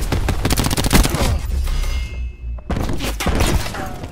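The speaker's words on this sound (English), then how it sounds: "Throwing cluster grenade." Cluster grenade going off in Call of Duty: Black Ops 4, a dense, loud chain of rapid cracks and thuds that breaks off into a brief gap and then resumes, with no one speaking.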